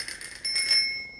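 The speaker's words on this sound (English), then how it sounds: "But, yeah, you've got your bell on there," A bell fitted to a Whoosh 2 compact stroller rings twice in quick succession, bright and metallic, up close, and the second ring fades out with a clear sustained tone.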